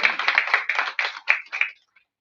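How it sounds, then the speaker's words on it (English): An audience at an architecture awards ceremony claps for the debaters in a short, quiet burst of clapping that comes in uneven pulses and stops abruptly. "A big round of applause for all the debaters"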